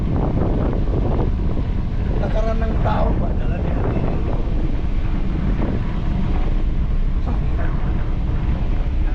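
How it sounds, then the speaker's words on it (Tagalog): Steady wind roaring and buffeting across the microphone throughout, loud and constant, with a brief human voice faintly under it, outdoors on a cool breezy walk in Colombia. "Ganda ng simoy ng hangin, ang lamig."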